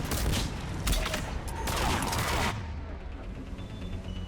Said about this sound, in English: Yep, that is a turret over there.